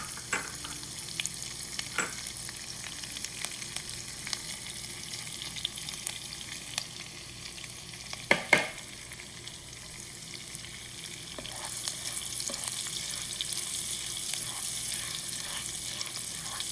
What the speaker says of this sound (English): I'm browning the jeera and a little bit of chili also to bring out the flavor to my basically ghee.